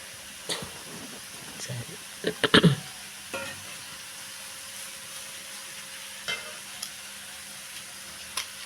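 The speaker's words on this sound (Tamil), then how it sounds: "இப்போ அந்த வெஜிடபிள்ஸோட அந்த ரைஸை சேர்த்து கிண்டிட்டு" Rice stirred together with vegetables in a pan for fried rice, soft sizzling under a spatula scraping the pan, with sharper scrapes and taps at a few moments while someone talks.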